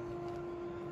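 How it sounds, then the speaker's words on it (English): Air compressor running in a neighbouring workshop unit, a steady low mechanical hum with a constant tonal drone, faint and unbroken throughout. "It's a compressor in the next unit going"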